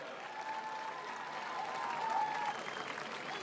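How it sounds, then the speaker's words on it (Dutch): A large crowd applauds a band of about a hundred musicians at the Koningsweek opening event in Dokkum. The clapping is steady and dense, sustained at an even level throughout. "Jou ze nog één keer een groot applaus."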